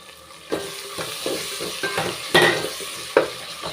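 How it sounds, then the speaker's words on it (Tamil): Tomatoes frying in a pan with mint and curry leaves for mushroom biryani, a continuous sizzle punctuated by repeated stirring scrapes and clinks of a utensil against the pan, close and with no talk. "தக்காளி வந்து லைட்டாக வதங்கிருச்சுங்க இப்போ கொஞ்சமாக புதினாவும் கருவேப்பிலையும் சேர்த்துக்கிறேன்"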